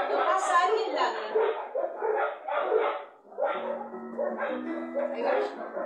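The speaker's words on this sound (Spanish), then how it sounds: "Cuando pasa alguien, ladran." Several dogs bark in a noisy chorus as someone passes by, near and fairly loud, with a person talking over the barking and tango music playing faintly underneath.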